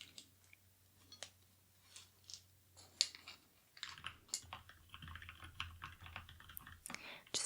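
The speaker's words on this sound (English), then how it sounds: "Just typing up my final notes" Soft, close typing on a computer keyboard in a quiet room: scattered light clicks at first, then a denser run of rapid keystrokes.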